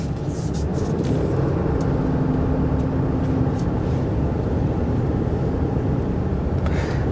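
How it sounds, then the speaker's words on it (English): A 2024 Ram 2500HD Rebel diesel truck drives a tight circle, its engine a steady low rumble with road and tire noise filling the cabin, continuous and fairly loud without talk. "let's make a circle here to see how tight this turning radius is"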